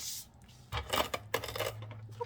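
A roll of double-sided tape drops during card making, giving a short clattering knock with a few light rattling bounces and scrapes at close range, then a low steady hum underneath.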